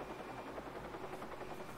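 Helicopter in the video game Watch Dogs, a steady whirring rotor drone with a constant buzzing texture, moderately loud and continuous, with no talk over it.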